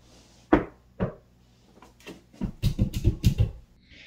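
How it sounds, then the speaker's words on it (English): A wall is knocked on some distance from a Rode VideoMic Go II on-camera microphone: two separate thuds, then a dense flurry of softer, duller knocks, fairly quiet and roomy with no voices. "video mic is hooked up now, and I'm knocking on the wall away from the mic"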